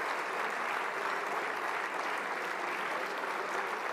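Sustained applause fills the French National Assembly chamber, a dense, even patter of many hands holding at steady loudness throughout, with no voices standing out.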